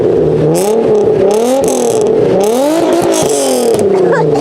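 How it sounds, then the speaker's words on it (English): Nissan 350Z with a God Snow catback exhaust free revving, a loud, raspy engine note rising and falling in repeated throttle blips over several seconds, close by with no talk. "I'm gonna do a little bit of free revving"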